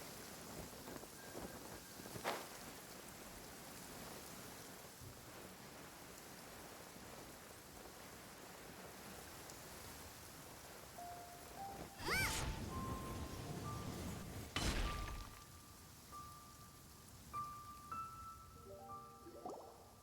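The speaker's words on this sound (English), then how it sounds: "Oh, I don't like the rain." Rain patters steadily in the Genshin Impact video game, a soft, faint hiss of falling drops broken by a couple of louder crash-like bursts and a few light chiming game tones.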